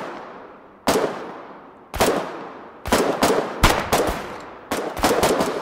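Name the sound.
gunfire in the video game Foxhole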